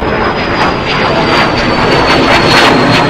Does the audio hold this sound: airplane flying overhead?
yes